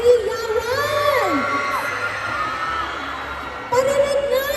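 A mall audience at Star Mall San Jose cheering and screaming, with high voices rising and falling over a steady crowd wash that swells again near the end.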